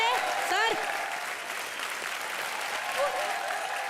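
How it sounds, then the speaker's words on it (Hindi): Studio audience on an Indian comedy show applauds, sustained clapping throughout with a host's voice talking over the start and briefly again near the end. "जोरदार तालियां सुरवीन और शक्ति जी के लिए"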